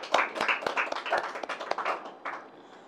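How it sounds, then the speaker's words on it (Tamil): Hand clapping from a church congregation during a sermon, a run of sharp, fairly regular claps spread over a few seconds at moderate level, with no voices over them. "கைத்தட்டி ஆண்டவர் மகிமைப்படுத்துவார்"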